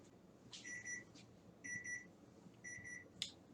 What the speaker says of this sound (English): So there's our timer.